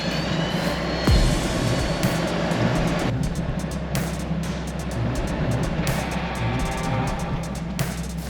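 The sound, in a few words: Hummer H2 engine throttling in deep snow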